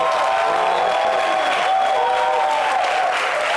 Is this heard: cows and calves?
no